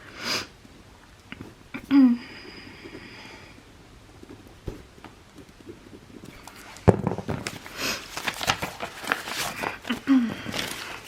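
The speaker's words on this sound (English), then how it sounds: "I do have hay fever, so I keep snuffling" Short nasal sniffs from hay fever recur between quieter stretches, a few sharp snuffles close by amid faint background rustling and movement.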